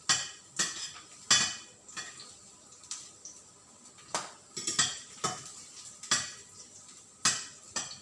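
Garlic and onions browning in a pan for scrambled eggs with tomatoes, with repeated clinks and scrapes of a utensil against the pan and a faint sizzle underneath, close and irregular.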